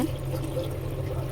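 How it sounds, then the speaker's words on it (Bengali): Water is poured into a pan of frying vegetables, giving a brief, quiet splash and trickle over a low background hum. "জল দিচ্ছি পরিমাণ মতন"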